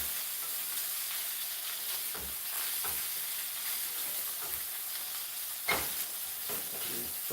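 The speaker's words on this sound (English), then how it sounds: "Stir it all up." Potatoes fry in a pan, a steady close sizzle with occasional scraping knocks as a utensil stirs them around, no voices.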